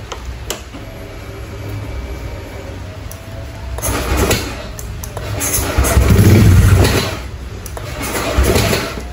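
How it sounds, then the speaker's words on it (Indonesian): A Honda Vario 150 motorcycle with a bore-up engine, hard to start and prone to overheating, is started up close by. Its engine noise rises and falls in several swells amid mechanical clatter. "Nah oke John, sekarang kita coba hidupin dulu motornya."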